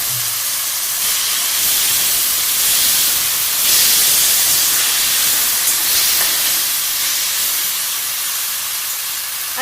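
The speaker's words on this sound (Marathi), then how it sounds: "अशा प्रकारे ही सर्व भाजी मी आधी परतून घेते" Finely chopped dill leaves (shepu) with a little asafoetida and turmeric fry loudly in a pan for a Maharashtrian vegetable dish, a dense continuous hiss and sizzle that swells slightly midway, with no voices.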